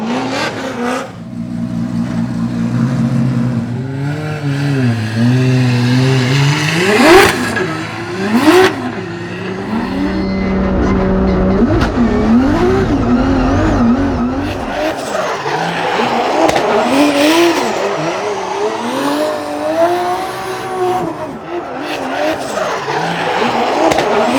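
A drift car's engine revs hard and rises in pitch while tires squeal loudly and continuously, with repeated throttle bursts and screeching slides nearby, at a Formula Drift skills battle.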